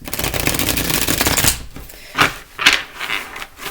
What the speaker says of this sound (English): I'm going to stop talking because the sound is not great when I'm shuffling